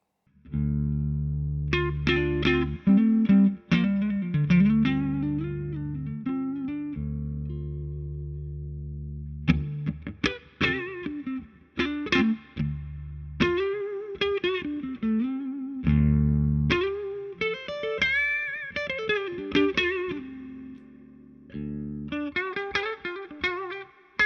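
Electric guitar played through a Two-Rock Classic Reverb amp on its own, chasing a classic tone: sustained, gritty notes and bends, with phrases broken by short gaps and ringing out loud and close.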